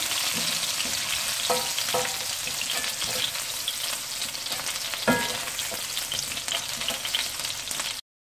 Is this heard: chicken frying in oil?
yes